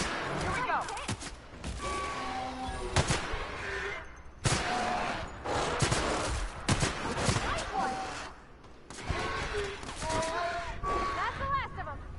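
Repeated bursts of gunfire in The Outer Worlds, loud and irregular across the whole stretch, with people talking between and over the shots.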